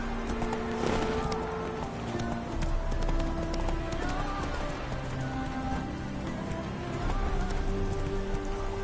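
Rhythmic clip-clop of a horse's hooves galloping in Witcher 3, steady and fairly close, running under continuous game music and ambience.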